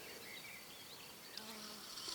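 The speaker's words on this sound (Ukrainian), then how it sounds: "бджола працює на смолці." A steady, quiet honeybee buzz hums continuously, bees working close by on flowering white acacia, with a faint higher drone weaving through it.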